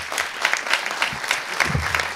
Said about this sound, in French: Julien, vous pouvez l'applaudir.